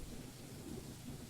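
Steady rain with a low thunder rumble from a visual novel game's storm scene, a continuous broadband wash that stays even and fairly quiet throughout.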